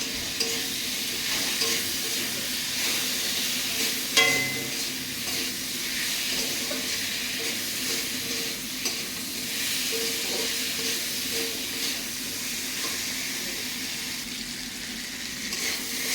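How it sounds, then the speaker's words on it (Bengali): Sea fish fries in a pan with salt and turmeric, giving a continuous close sizzle and hiss, with one sharp utensil clank partway through. "নুন হলুদ দিয়ে একটু ভালো করে ভেজে নেব।"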